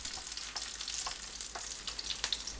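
Over low heat, an egg-coated shrimp and chive pancake pan-fries with a steady, quiet crackling sizzle, light pops scattered through it and no speech.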